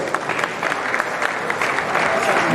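Audience applause at a memorial lecture, a steady wash of clapping from a crowd that holds at an even level for the whole stretch with no talking over it.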